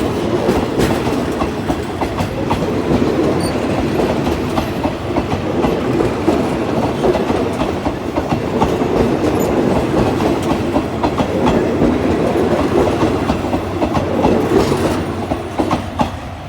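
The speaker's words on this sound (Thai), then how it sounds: "ขบวนรถเร็วที่ 172 นะครับ ผ่านบ้านโป่งไปแล้วนะครับ กำลังผ่านเครื่องกั้นทางด้านเหนือของสถานีบ้านโป่งนะครับ" GEA 4530 diesel locomotive hauling rapid train 172 from Sungai Kolok to Bangkok past Ban Pong station and its level crossing, a loud, continuous rumble with rhythmic wheel clatter throughout.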